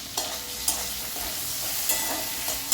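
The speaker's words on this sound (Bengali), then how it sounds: "এঁচোড় ভাপাতে ভাপাতে আমি এখানে শিম ভেজে নিলাম" Flat beans (shim) fry in a pan with a steady, close sizzle, punctuated by a few sharp clicks and scrapes of stirring.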